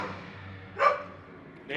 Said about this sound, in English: is this dog gonna shut up?